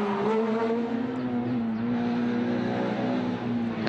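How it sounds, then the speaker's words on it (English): A rally car engine drones steadily at close range on a rally stage with a slightly uneven, rough note, misfiring and stuttering, without any speech. "You can hear the misfire."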